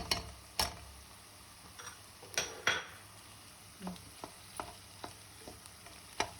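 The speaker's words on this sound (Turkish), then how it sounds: "karıştırıyoruz" Pepper paste and tomato paste being stirred in a pot for a Turkish chickpea and meat dish, soft sizzling under a series of sharp spoon taps and scrapes against the pot.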